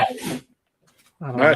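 A single sharp sneeze bursts out at the start, followed by a brief silence and then someone speaking.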